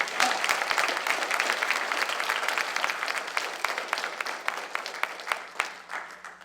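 An audience at a panel discussion on school district trustees claps enthusiastically, a dense, loud burst of applause that gradually thins into scattered individual claps toward the end.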